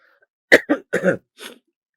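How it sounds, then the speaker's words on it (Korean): A man coughs several times in a short, sharp burst of three to four hacking coughs at close range, with no talking. "잠시만 기침 좀 하겠습니다."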